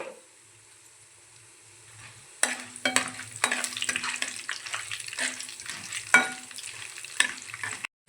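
Chana dal frying in a pan, quiet at first, then a spatula stirring with bursts of sizzle and scraping clatter, close and uneven.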